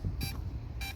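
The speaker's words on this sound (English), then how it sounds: "Yep, definitely beeping" Two short, high electronic beeps about half a second apart from a DJI Mavic Mini drone, faint over a low background hum.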